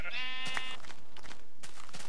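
A sheep bleats in the Minecraft video game, one loud, close, harmonic bleat up front, followed by softer game noises.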